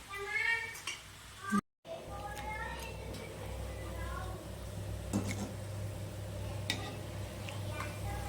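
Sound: murukulu dough frying in peanut oil

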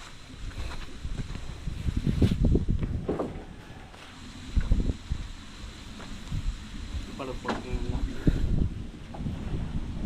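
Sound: wind blowing outdoors

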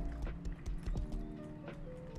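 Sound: horse walking and neighing in the video game Rust

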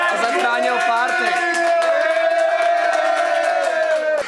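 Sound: crowd applauding and cheering for drummer Paul Cihlář

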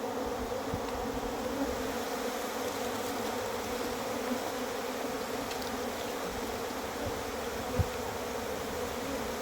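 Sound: buzzing cavity-nesting honey bees being moved into a hive box

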